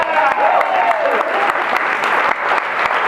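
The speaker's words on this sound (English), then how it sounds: "Everybody give Lauren a round of applause." Sustained audience applause at a final expense insurance conference in Aruba, dense steady clapping from a crowd filling the room, with a brief voice tone early on.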